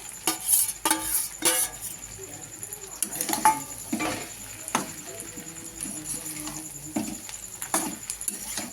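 Salted, turmeric-coated shrimp fry in a pan while being stirred, giving scattered clinks and scrapes of a utensil against metal over a faint sizzle, close by, with irregular pauses between strokes.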